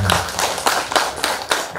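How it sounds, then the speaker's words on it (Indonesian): A handful of people clap at a graduation ceremony, sharp, close, somewhat sparse claps landing in an uneven rhythm rather than a full, dense ovation. "Tepuk tangan untuk"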